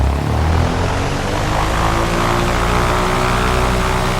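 A propeller airplane engine drones loud and steady with a strong low rumble and a spinning airscrew buzz as the throttle is opened, close up and with no talk.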